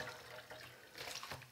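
A skein of handspun wool yarn is pushed down into a basin of water for a wash soak, giving soft, steady splashing and gurgling that swells louder toward the end. No talking.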